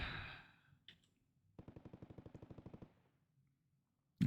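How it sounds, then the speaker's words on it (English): Rapid burst of gunfire from outside in the video game Not For Broadcast, about a dozen evenly spaced shots lasting just over a second, moderately loud and somewhat distant, set off by a breathy exhale beforehand and near-silence afterward. "I suppose the fact that we hear gunfire outside is definitely helping."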